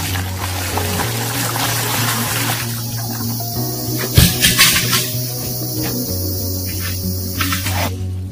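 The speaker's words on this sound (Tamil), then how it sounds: "கொஞ்சம் தண்ணி ஊற்றலாம் போதும்" Water poured onto lime while planting banana suckers, a soft pouring splash with a few short bursts of trickling near the middle, set against a steady low hum and insect-like background chirping.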